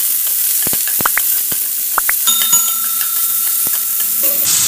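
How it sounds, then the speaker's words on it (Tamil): Sliced shallots sauté in oil for chicken thokku, a loud close hissing sizzle broken by sharp spatula scrapes and clicks, with a tonal whine joining midway. "இப்போ அதை நல்லா வதக்கி கொடுத்துக்கலாம்."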